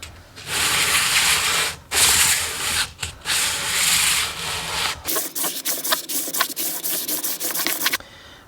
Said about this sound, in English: I'm just going to clean up the fretboard very carefully with some 400 grit sandpaper on